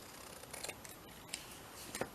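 Scissors snip through paper while a small pocket is trimmed and shaped, giving a few quiet, separate cuts spaced across a hushed room.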